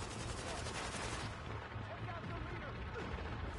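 Machine gun fire from an elite enemy in The Division video game comes as sustained, dense rattling bursts with booming impacts, heard under a player's talk.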